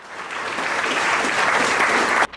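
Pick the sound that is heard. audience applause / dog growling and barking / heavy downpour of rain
audience applause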